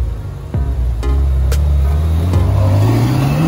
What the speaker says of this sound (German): Haust du ab mit dem Ferrari?